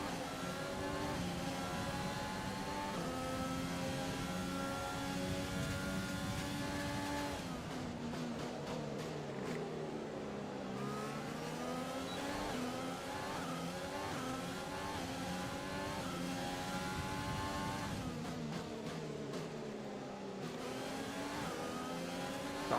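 Race car engine in the F1 2020 video game at the Hungaroring, revving high and steady through the laps, with pitch dropping and climbing again through gear changes and corners, loud and continuous with no talk.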